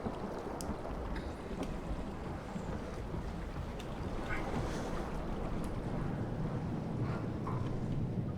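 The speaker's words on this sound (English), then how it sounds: "Bit of a stormy day down here at the bottom of the sea." A stormy underwater setting in the video game SOMA gives a steady, dense rush of wind-like noise with a deep rumble. It continues unbroken throughout, with faint occasional creaks and no speech.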